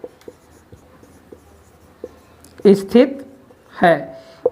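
Writing on a board during a maths lesson gives a series of short, sharp taps and strokes at an uneven rhythm. A teacher then begins speaking in bursts over the quiet room.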